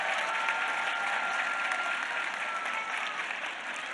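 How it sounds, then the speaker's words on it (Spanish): A crowd at a government housing event in Rincón de Romos, Aguascalientes, applauds in a thick, sustained burst of clapping that holds at an even level before easing slightly. "Que un aplauso porque son lo mejor de nuestro gobierno."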